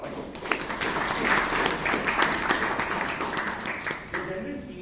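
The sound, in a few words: audience applause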